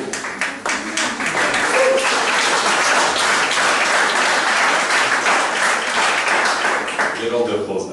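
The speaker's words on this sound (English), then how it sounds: "get all the applause now" Audience applause welcoming a chamber choir at a concert: sustained, even clapping from a sizeable crowd, loud and continuous, with a voice beginning to speak as it fades at the very end.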